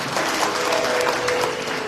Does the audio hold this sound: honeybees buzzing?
no